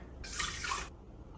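Water pours briefly into the bowl of a kitchen stand mixer, a short, soft splashing stream of about half a second in a quiet kitchen.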